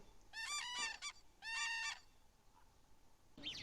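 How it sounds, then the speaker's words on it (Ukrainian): Two loud, harmonic trumpeting calls from a common crane sound close by, each roughly half a second long, followed by a quieter, higher call. "журавель,"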